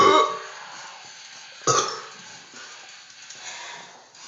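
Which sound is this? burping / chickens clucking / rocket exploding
burping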